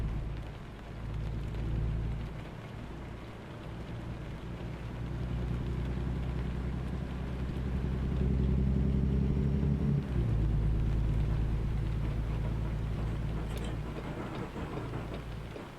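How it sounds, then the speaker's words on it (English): Real rain outside during a truck-driving game session, a steady broadband patter mixed with a low engine rumble throughout, loud and continuous with no talking. "The rain's coming through my microphone."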